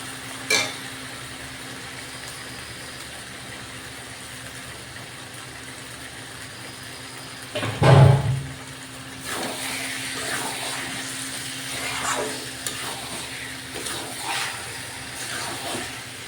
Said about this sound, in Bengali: এবার এরকম আমি লবণ মাখিয়ে জল ঝরিয়ে রাখা চিকেনটা আমি দিয়ে দিচ্ছি এর মধ্যে।